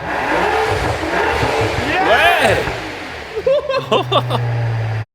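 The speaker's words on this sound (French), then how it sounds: "Ça sonne comme un V12." A rebuilt, crash-damaged Rolls-Royce with a new exhaust roars and revs loudly under excited voices, then settles into a steady low drone as someone speaks briefly.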